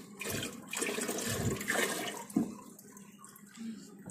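Water pours and splashes into a fish tank holding zebra fish, a close, uneven gush with bursts and gurgles that rises and falls, heard alone without talk.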